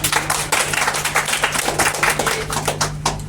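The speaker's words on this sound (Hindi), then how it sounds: "सबसे पहले आपके सवाल के लिए जबरदस्त तालियां" An audience claps in a steady, rapid patter of many hands, fairly loud and close, running continuously over a constant low electrical hum.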